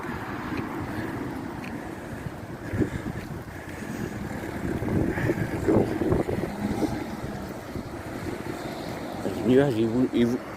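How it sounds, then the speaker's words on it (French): Strong wind roars and buffets the microphone in rising and falling gusts, with occasional faint voices under the rushing noise. "Par moment, il y a une sacrée rafale quand même."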